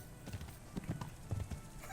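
Horse hooves clip-clopping in the video game Kingdom Come: Deliverance: a quiet, uneven series of soft hoof knocks over a low background rumble.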